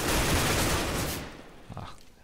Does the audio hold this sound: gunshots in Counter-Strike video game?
yes